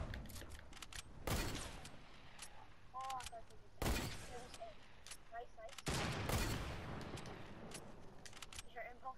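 Hunting rifle shots fired into the sky in a video game, three loud, sharp cracks spaced a few seconds apart, each with a brief ringing tail, over a quieter game background with faint voices.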